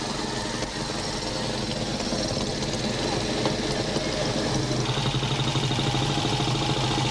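The oldest vintage motorcycle on a coast-to-coast run, machine number 1, arrives with a loud, steady engine note that continues unbroken throughout.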